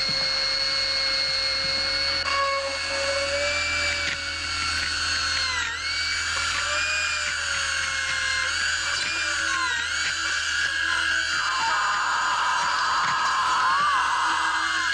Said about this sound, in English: I'll just drill into a healthy tooth until I reach the pulp.